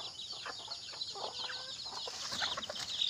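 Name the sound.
black astrol (Australorp) chicks and hens clucking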